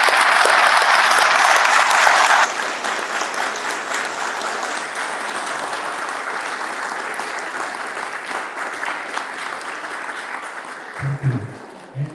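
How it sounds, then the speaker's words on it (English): Graduation ceremony audience breaks into a big round of applause, loud dense clapping at first that eases into a long, steadier patter before trailing off, with a brief voice near the end. "Can we have all give a big round of applause?"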